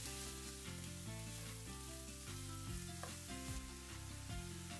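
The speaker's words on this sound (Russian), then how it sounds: "Отправляем нашу начинку обжариваться на сковороде в достаточном количестве масла." Steady, loud sizzling of mushrooms and onion frying in plenty of oil in a pan, with occasional stirring clatter and no voices.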